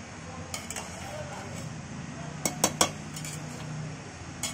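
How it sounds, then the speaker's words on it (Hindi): Metallic clinks and clanks of a pressure cooker lid being opened after cooking vegetable pulao, with a quick cluster of sharp knocks, under someone speaking. "अब मैं इसको कुकर को खोल रही हूँ और अब इसको खोल कर ढक्कन को इधर रख देंगे"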